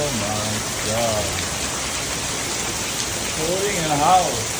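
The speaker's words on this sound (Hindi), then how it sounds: "क्या बारिश हो रही है दिल्ली में" Heavy rain pours in Delhi during the monsoon, a dense, steady hiss of falling water heard close and loud, with a person talking over it in places.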